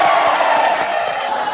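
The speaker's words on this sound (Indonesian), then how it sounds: "Tepuk tangan sekali lagi untuk mereka dong." A studio audience at a JKT48 TV show cheers and applauds, a dense, loud, continuous crowd roar with whoops, heard alone.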